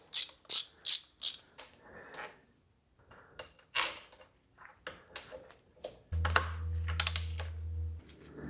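Ratchet backing bolts out of an engine timing cover, quick rapid clicking bursts near and faint, then pauses and scattered clicks, ending with a low steady hum under further ratcheting.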